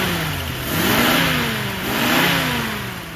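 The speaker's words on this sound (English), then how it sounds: "Let's rev it up a little bit." A small car engine revs up twice, the pitch climbing, dropping and climbing again, close and loud with no talk, on a cute little car fed by an electric fuel pump set to about 1 psi.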